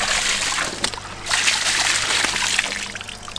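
Water trickling and splashing steadily over freshly caught fish from the village fields, close and continuous, with no talking.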